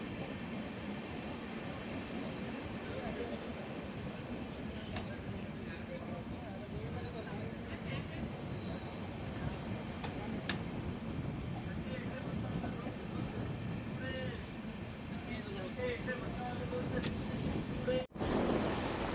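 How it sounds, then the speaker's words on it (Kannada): Chamundi Express passenger train running from Channapatna toward Ramanagara, a steady low rumble and clatter of wheels heard from inside the carriage throughout, with faint sharp clicks over the rails and a brief dropout near the end. "ನಮ್ಮ ಟ್ರೈನ್ ಚನ್ನಪಟ್ಟಣದಿಂದ ಹೊರಟಿದೆ"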